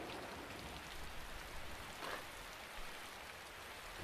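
Steady rain falling, a soft continuous hiss of drops without pause, faint and distant with no other sounds standing out.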